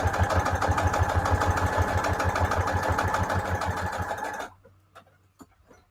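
A sewing machine runs a straight stitch border around a fabric tag, with a fast steady mechanical whir and rhythmic needle thumping close by for about four seconds before stopping abruptly into near quiet.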